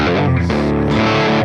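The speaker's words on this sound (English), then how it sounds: "That's called distortion." Heavily distorted electric guitar plays loud sustained chords through an overdrive effect, thick and saturated with shifting harmonics, with no talking over it.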